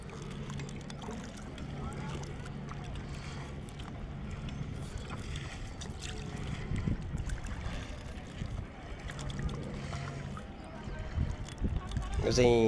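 A small boat steered by a lone rider on the lake at Pokhara, with a low motor hum that comes and goes under wind, splashing and a voice talking.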